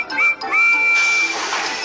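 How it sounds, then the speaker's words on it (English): Percy, a small green tank engine with four small wheels and number 6 on his cab, gives a high whistle: a short toot, then a longer held note fading into a hissy rush, with no voices. "Percy has a whistle that sounds like this."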